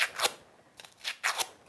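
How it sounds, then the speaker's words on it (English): Scissor blades scrape along a crepe paper petal to curl it: soft, papery swishes in quick pairs, close and quiet, with no talking. "Open up my scissors and curl the petal."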